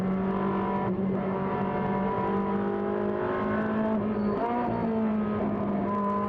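A Ferrari 458 Trofeo Pirelli race car's 4.4-litre engine roars loudly and continuously from onboard at Brno circuit, its pitch rising and dipping with shifts and revs.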